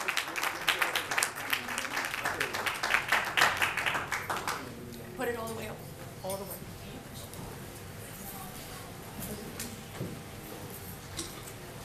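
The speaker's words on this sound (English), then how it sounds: "Let's receive them with a strong round of applause." A church congregation gives a dense burst of applause for an arriving pastor couple, strongest over the first four seconds, then thinning to scattered claps beneath talking voices.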